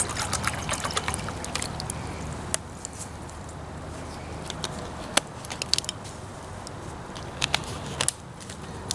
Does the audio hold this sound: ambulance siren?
no